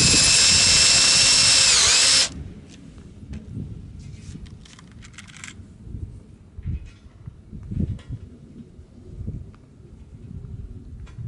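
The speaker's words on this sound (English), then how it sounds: "I'm going to fix them in place with steel rivets." A power drill boring holes in steel bed rails for rivets, loud high whine for about two seconds that stops abruptly, followed by quieter clanking and handling noises.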